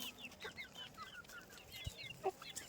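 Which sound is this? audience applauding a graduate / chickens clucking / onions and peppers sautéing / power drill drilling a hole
chickens clucking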